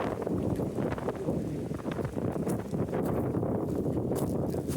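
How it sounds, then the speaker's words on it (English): Strong wind buffeting the microphone on a hiking trail, a loud continuous roaring rumble with gusty fluctuations and faint rustling, no clear voices. "Oh Lord, it's windy."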